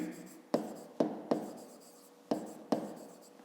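A pen writes out a fifth-grade math solution on paper, giving soft scratchy strokes punctuated by several sharp taps in an irregular rhythm, close and quiet.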